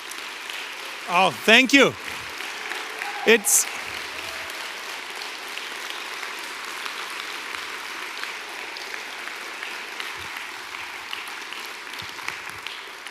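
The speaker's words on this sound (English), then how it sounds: "The next group that I really want to applaud is the awesome EA support" Scattered applause from a tech summit audience follows a few short spoken words, the clapping soft and diffuse, lingering at low level in the background for several seconds.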